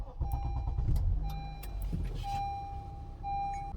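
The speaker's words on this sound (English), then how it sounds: "we're going to start the car." A Honda Earth Dreams engine with low oil and a rattle starts up in an Accord, CR-V or TLX, the starter cranking briefly before the engine settles into a steady idle, with warning chimes beeping nearby.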